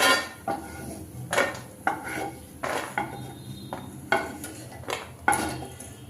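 Roasted cashews tipped from a pan into a metal vessel, a series of loud clattering metal knocks and scrapes every half second or so, close by with no talk.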